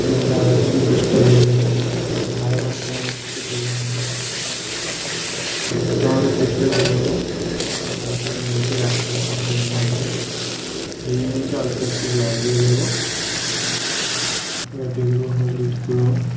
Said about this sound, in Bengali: তেলটা গরম করে নিয়েছি। এর মধ্যে দুটো কাঁচা লঙ্কা দেবো, লবণ দিয়ে দেবো, পেঁয়াজটাকে ভালো করে দিয়ে দেবো।